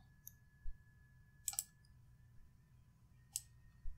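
Mouse clicks on a computer while working in the Windows snipping tool, a few quiet, sharp single and double clicks spaced irregularly over a soft background hum.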